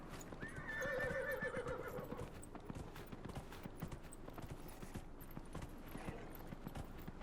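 A horse in Dragon Age: Inquisition whinnies loudly, then gallops on with steady, rhythmic hoofbeats close by. No one talks.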